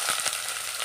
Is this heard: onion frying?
yes